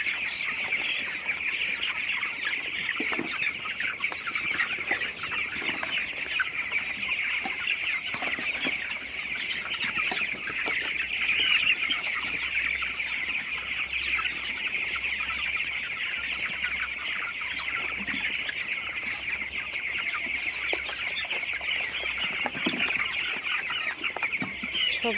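Chickens on a poultry farm cluck and squawk continuously during feeding, a busy flock chorus with scattered wing flaps, close and steady throughout.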